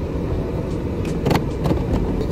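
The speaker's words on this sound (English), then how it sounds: "my dad wants me to reverse a car" A car engine idles low and steady as a beginner driver reverses, a continuous close rumble with faint bumps and knocks partway through.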